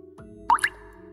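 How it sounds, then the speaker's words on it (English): A single water droplet sound effect in a quiet classroom setting, one short, bright plop with a quick echoing tail over faint background hum. "A water droplet sound?"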